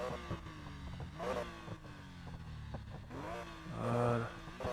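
A Mini Cooper with a stock, unmodified engine in Need for Speed Payback revs repeatedly in short bursts, the engine note rising and falling several times, fairly faint and close.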